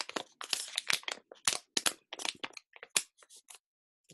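A plastic UK modern £5 banknote crackles and snaps in quick, sharp bursts, close and crisp, with short pauses between the crinkles.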